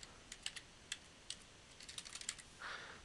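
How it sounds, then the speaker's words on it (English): Quiet, close clicking of computer keyboard keys, including arrow keys, a handful of separate taps, then a quicker run of presses ending in a brief soft rustle. "I'm using my arrow keys to bring it over just a little"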